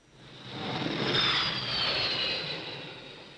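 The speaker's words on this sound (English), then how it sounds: "A Sea Vixen landing at 130 knots" A Sea Vixen jet aircraft roars past at a distance while landing on an aircraft carrier, a broad whooshing engine noise swelling and fading over a few seconds.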